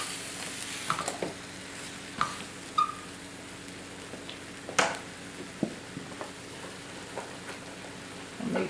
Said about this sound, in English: And just stir those and make sure they're all coated.